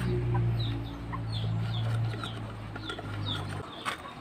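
Backyard hens cluck at feeding time, soft repeated clucks coming in a loose rhythm over a steady low hum that cuts off near the end.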